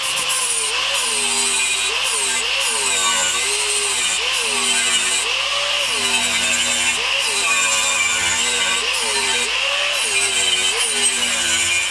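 A power saw cuts aluminum tubing in a shop, giving a loud, continuous whine whose pitch dips in a regular repeating pattern throughout, with no voices.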